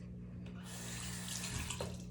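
Tap water running into a bathroom sink for washing the face, a soft steady splashing stream that grows slightly fuller midway, faint and close.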